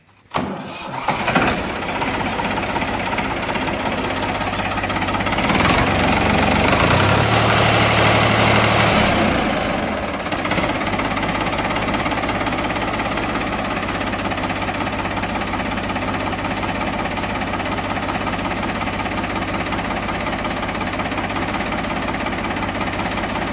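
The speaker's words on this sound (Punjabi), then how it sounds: "ਸਟਾਰਟਿੰਗ ਦੀ ਦੇਖੋ ਆਵਾਜ਼ ਇੰਜਣ ਦੀ" A Ford 3600 diesel tractor engine cranks and catches, revs up loudly for a few seconds, then settles into a steady, rumbling idle.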